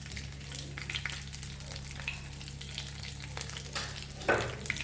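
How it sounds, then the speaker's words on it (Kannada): Sesame seeds and curry leaves frying in hot oil, giving a continuous low crackling sizzle with faint pops and a brief louder spatter near the end. "ಎಣ್ಣೆ ಕಾದ್ಮೇಲೆ ಎಳ್ಳು ಹಾಕಿ ಕರಿಬೇವು ಹಾಕಿದ್ದೀನಿ"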